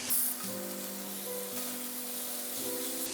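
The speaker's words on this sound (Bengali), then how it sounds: "এখন আর কিছুই না নেড়ে চেড়ে ভাজতে থাকবো" Kakrol (teasel gourd) pieces stir-fried in an uncovered pan with turmeric and salt give a steady, close sizzle that runs unbroken under a low hum.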